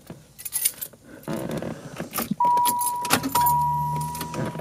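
A car is started with keys: jangling and clicks of the key in the ignition, then a warning chime tone, then the engine turns over and catches into a low steady idle, close by.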